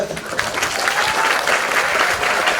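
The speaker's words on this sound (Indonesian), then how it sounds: "Beri tepuk tangan dulu." An audience at a religious studies class on the attributes of Allah breaks into applause, a dense steady burst of clapping heard close and fairly loud.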